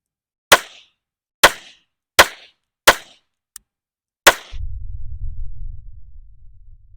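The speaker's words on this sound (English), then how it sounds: "I'm going to give it a couple of shots and see what happens." Gunshots fired into a log outdoors: five loud, sharp cracks spaced under a second apart, plus a faint click, followed by a steady low rumble.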